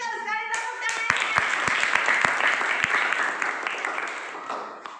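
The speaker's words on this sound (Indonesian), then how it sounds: "Pintar sekali, tepuk tangannya." A class of sixth-grade children claps together in a lively, close burst of applause lasting several seconds, with a voice briefly heard just before the clapping starts and talk mixing in beneath it.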